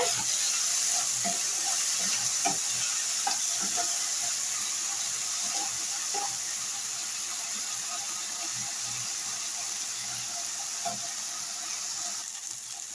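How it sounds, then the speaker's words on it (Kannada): Sliced okra fries in a pan with a steady, even sizzling hiss and faint pops scattered through it. The cooking sound carries on without any talking. "ಇವಾಗ ಬೆಂಡೆಕಾಯಿ ಎಲ್ಲ ಚೆನ್ನಾಗಿ ಫ್ರೈ ಆಗಿದೆ"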